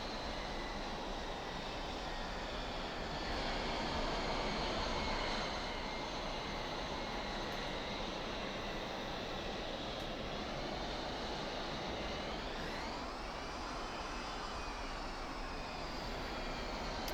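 A Mirage F1CE jet taxis in the DCS flight simulator, its engine giving a steady, loud whining roar throughout, with a rising pitch sweep late on as the throttle shifts, and no one talking.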